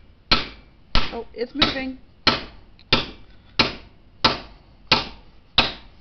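Steel chisel struck repeatedly with a hammer to drive out an old valve guide from a Ford flathead V8 engine block, nine sharp metallic blows at a steady rhythm, close and loud, with brief talk between strikes.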